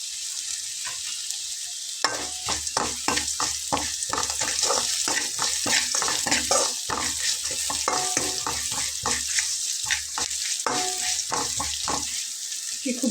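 Whole cumin and coriander seeds fry in a pan while a utensil stirs them, making repeated sharp scraping strokes over a soft background sizzle, close by and fairly quiet, without speech.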